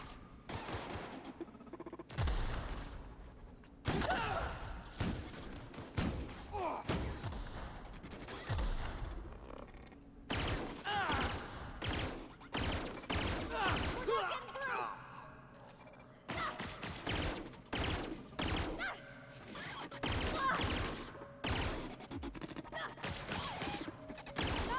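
Sustained bursts of gunfire from The Outer Worlds video game, loud, rapid volleys broken by short pauses and repeating across the whole stretch, with no talk over it.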